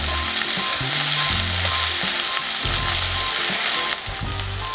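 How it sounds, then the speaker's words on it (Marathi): Spring onion greens are sautéed in a pan while zunka is being made, giving a loud, continuous sizzle. Scraping stirs come through at intervals, and there is no talking. "कांद्याची पात थोडीशी मऊ होईपर्यंत आपण परतून घेणार आहोत साधारण 1 मिनिटभर"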